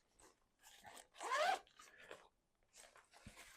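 A zipper on the mesh pocket of a waterproof luxury toilet bag is pulled in a few short, quiet rasping strokes with brief pauses between them.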